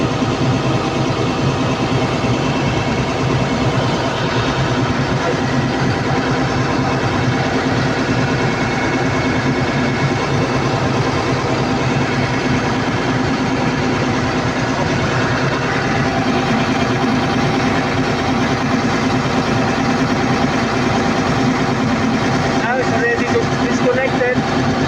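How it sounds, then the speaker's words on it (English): A CAT 320D2 L excavator with a low-power fault idles steadily throughout, a constant near diesel drone with a deep low rumble and no change in pace. "Okay, now the engine is running."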